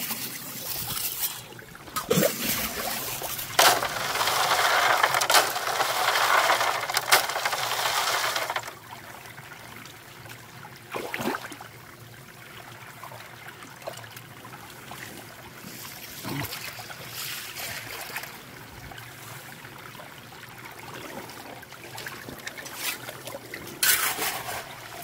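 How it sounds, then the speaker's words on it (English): Water running through a gold sluice at a Scottish prospecting site, a continuous rushing trickle with occasional clacks of gravel and stones, louder at first and then settling to a steadier flow. "Keep the sluice flowing nicely."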